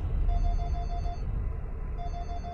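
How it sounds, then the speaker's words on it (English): A phone rings in a horror video game, sounding as a series of short, evenly spaced electronic trills in two bursts over a low rumbling background. "Phone!"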